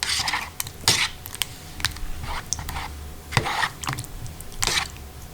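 A utensil stirs microwaved Samyang Buldak spicy tteokbokki rice cakes in a container, giving sharp clicks and scrapes at irregular intervals, close and fairly loud, with no talk.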